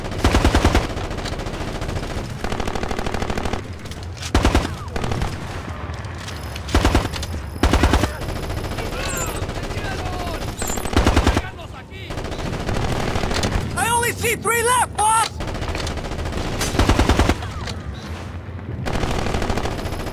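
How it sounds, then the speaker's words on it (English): Hostile gunfire in the tactical shooter game Ghost Recon Advanced Warfighter 2: loud, dense automatic bursts and scattered single shots crackle through the whole stretch, with brief voice chatter mixed in. "Captain, taking hostile fire!"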